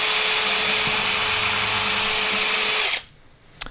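A power drill bores through a thin wooden board, a loud steady high-pitched whine for about three seconds that stops abruptly as the bit breaks through, followed by near silence and a brief click.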